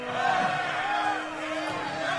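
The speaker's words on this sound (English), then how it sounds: "The crowd starts booing as you're just bumbling around the ring like an oaf." A large arena crowd booing at a fighter in the ring, a dense, sustained roar of many voices that swells and dips slightly throughout.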